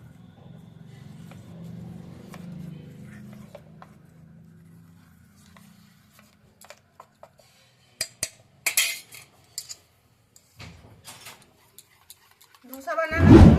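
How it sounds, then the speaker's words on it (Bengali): Pea dosa batter is mixed with water in a bowl: a faint low hum at first, then sparse spoon clinks and scrapes in short bursts, ending with a louder knock. "এবার ভালো করে মিশিয়ে নিচ্ছি।"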